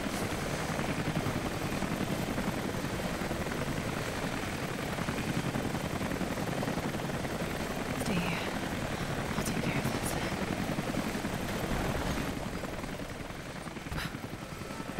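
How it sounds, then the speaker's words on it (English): A helicopter in the video game Rise of the Tomb Raider gives off a steady, unbroken rotor whir that holds at an even level for the whole stretch, with a few faint clicks. "Oh, there's the helicopter."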